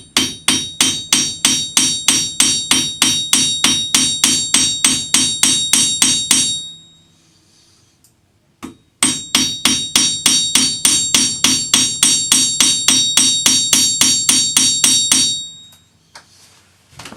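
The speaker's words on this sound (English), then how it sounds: "Use your planishing hammer with the slightly rounded end." A planishing hammer with a slightly rounded face strikes wire on an anvil, flattening it for a wire cuff. Loud, steady, rapid ringing blows come in two long runs separated by a short pause, with no talking.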